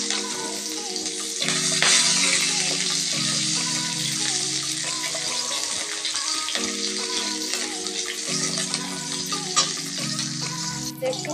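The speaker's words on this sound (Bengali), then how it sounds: "এবার আমি তেলের মধ্যে একটু পেঁয়াজ কুচি ছেড়ে দেব।" Chopped onion hits hot oil left over from frying fish, producing a loud, close sizzle with crackling and stirring scrapes, while a steady low hum drones in the background.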